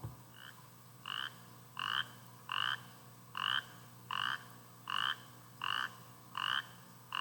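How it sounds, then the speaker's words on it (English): A spotted chorus frog, a small tree frog, calls alone in regular rising trills about one per second, ten calls in a row, clear and close against a quiet background. "this is spotted chorus frog"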